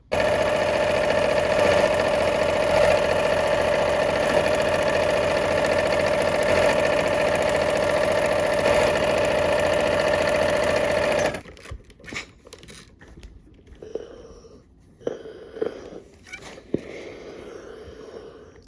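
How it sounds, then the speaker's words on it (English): A sewing machine stitches quilt fabric triangles with a steady, loud mechanical whir for about eleven seconds, then stops. Soft handling noises, clicks and rustles of fabric follow. "let's go ahead and sew"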